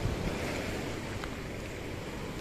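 Sea surf at Long Beach resort in Cavite, a continuous broad wash of waves with some wind rumble against the microphone, steady and moderately loud with no voices.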